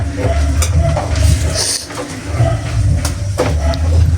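A food mixture stirred in a pan, with steady scraping and sloshing over a low sizzle and a few clinks of the utensil against the pan, loud and close.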